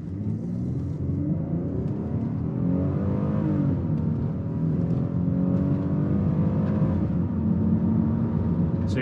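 A Kia Carnival minivan, a 2022 model, accelerates at full throttle from a standstill, its engine note a steady loud rumble that climbs in pitch through the gears for about nine seconds.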